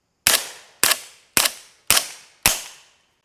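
Five suppressed gunshots from a rifle fitted with a Q Trash Panda suppressor fire at an even pace, each a sharp, loud pop with a short decaying tail, with no talking.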